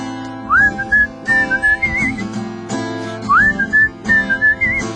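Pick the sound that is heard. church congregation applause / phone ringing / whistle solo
whistle solo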